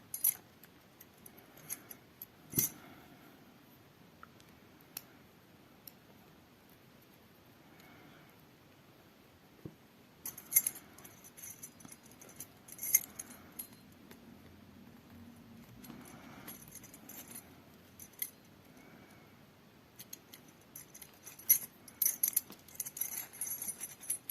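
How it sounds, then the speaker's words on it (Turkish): Metal keys jangle in scattered short bursts while a keyring is fitted onto a handmade keychain woven from IV drip tubing; the clinks are faint and close, with quiet gaps between clusters and no talk. "Şimdi şu alt kısma anahtarlığı geçireceğim."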